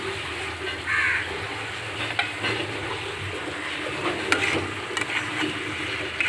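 Steady sizzling of ridge gourd and fish frying with spices in a kadai, with occasional scraping and stirring strokes over a continuous hiss.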